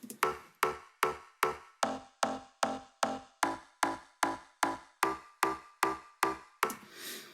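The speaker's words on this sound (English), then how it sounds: "So that's really kind of clicky sounding." Clicky top layer of a synthesized bass, stacked with a fifth for an organ-like tone, struck in a steady even pulse of about sixteen sharp hits, each decaying quickly, alone and close.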